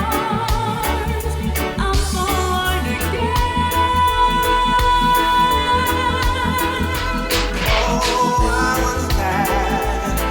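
A duo's rendition of a song, a dense, steady music recording with full instrumentation and a prominent sustained melody line, played loud throughout with no talking.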